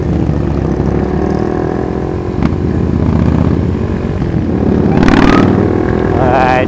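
A motorcycle engine roars loud and close, holding a steady drone at a group Sunday morning ride with a 150cc bike following, the pitch rising toward the end.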